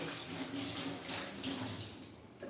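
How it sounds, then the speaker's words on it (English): Hands being washed under a running kitchen tap during salad preparation. Water gushes and splashes steadily at moderate loudness, close by, with no speech. "Let me wash my hands first."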